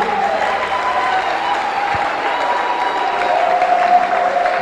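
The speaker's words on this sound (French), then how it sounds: "Acclamons pour elle." Church congregation applauding in a steady, dense burst of clapping that fills the room and holds at an even level throughout, with no pauses.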